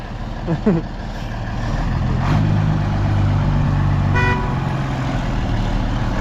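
Grain truck engine rumbling loud and close as it reverses and then pulls away, its steady drone building and holding, with a brief tone partway through.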